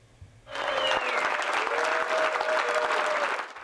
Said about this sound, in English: Colleagues of New Zealand Prime Minister Jacinda Ardern applauded her